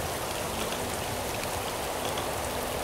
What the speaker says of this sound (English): The rain isn't hard enough for it to make a big effect yet.